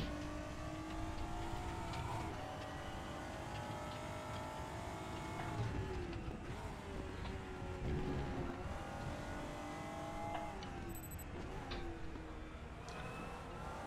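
A GT4 race car in the RaceRoom racing game, engine droning loudly and steadily with rising and falling rev sweeps as it shifts down, continuous engine sound throughout with no talk.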